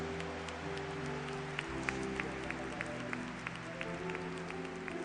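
Congregation at a charismatic Catholic church gathering clapping along, steady rhythmic applause from a crowd heard at a distance over a low sustained musical hum.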